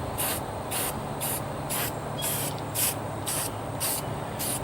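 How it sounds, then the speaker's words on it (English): Corrosion protection being sprayed onto the screws and covers of a Johnson/Evinrude outboard motor: about nine short, evenly spaced aerosol bursts, close by, over a steady low background hum. "other than the application of a little corrosion protection back on these screws"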